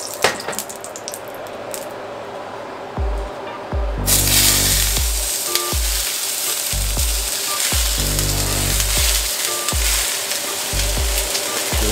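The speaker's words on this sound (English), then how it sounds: "you want to get this mug smoking a little bit before you throw these vegetables in there" Fajita vegetables dropped into smoking-hot olive oil in a pan, a loud, continuous, close sizzle that swells sharply as they hit, with faint clatter of stirring underneath and no talking.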